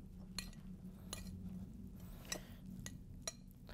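Utensil mixing leftover cranberries and stuffing in a dish, giving several sharp, evenly spaced clinks and light scrapes over a low steady background hum.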